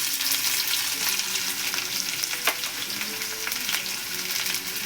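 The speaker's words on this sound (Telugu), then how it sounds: "ఉల్లిపాయల్ని కొంచెం ఎర్రగా మగ్గనిద్దాం." Urad dal, cumin and onions fry in hot oil with a steady, close sizzle and crackle, a constant bright hiss with occasional small pops throughout.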